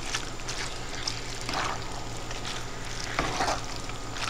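Cheese melts with milk in a pan for Rotel dip, giving a steady soft sizzle with occasional stirring scrapes, close and continuous without talk.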